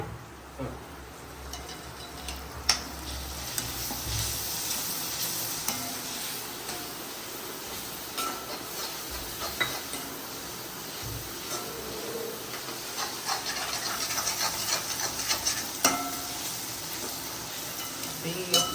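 Onions fry over lowered heat in a pan, giving a soft continuous sizzle broken by occasional scraping and stirring sounds, close but fairly quiet.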